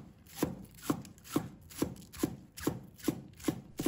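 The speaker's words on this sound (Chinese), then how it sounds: "把葱叶切成葱花" A knife chops green onion leaves into small rings on a cutting board, giving eight steady, evenly spaced knocks at close range with no voices.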